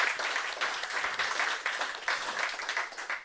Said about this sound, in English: big round of applause to you all that contributed and spoke here at the event